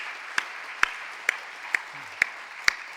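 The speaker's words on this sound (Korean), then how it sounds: "박수를 하나님께 영광 돌리고 격려하겠습니다." Slow, evenly spaced single claps ring out at a quiet level during a church service in a Korean congregation, about six sharp hand claps over a few seconds, sparse rather than a dense crowd, with no talking.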